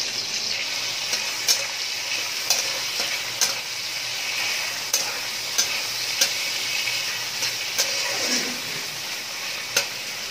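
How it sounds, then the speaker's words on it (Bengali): Shrimp marinated in turmeric and salt frying in hot oil, a steady close sizzle broken by sharp periodic clicks and taps of a utensil against the pan, no voices. "এবার এই চিংড়ি মাছটা ভেজে নেবো একইভাবে।"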